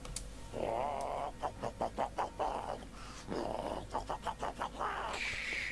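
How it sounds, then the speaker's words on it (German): A chicken in the World of Warcraft game clucks in short repeated bursts, with a couple of longer squawks between the rapid clucks, fairly close and clear with no talk over it. "hört ihr mal das Huhn an"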